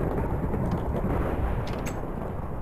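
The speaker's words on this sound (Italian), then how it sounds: "c'è il temporale ma non piove qua" Thunder rumbles in a Minecraft FTB Ultimate modpack thunderstorm, a dense, low, continuous roll that stays steady and loud for the whole stretch without a clear individual crack.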